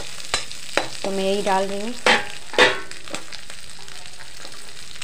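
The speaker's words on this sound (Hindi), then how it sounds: "और अब डाल देंगे प्याज।" Chopped onions sizzle and fry in a pan while whole-wheat pasta is being made at home. A steady hiss runs under a woman's brief speech, with a few stirring scrapes and clatters close by.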